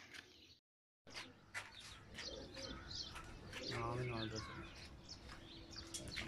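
Tournament pigeons at Amra Kalan coo softly and repeatedly, their calls mixed with chirps and running under steady nearby human voices after a brief dropout.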